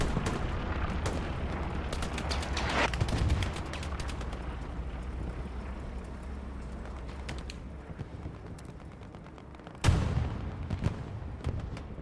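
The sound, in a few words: explosion and gunfire in video game Hell Let Loose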